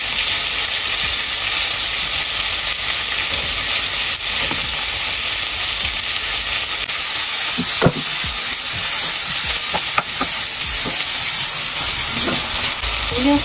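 Butter sizzling in a frying pan while cooking dinner: a loud, continuous crackling hiss with scattered sharp pops and spatters, and a few clicks later on.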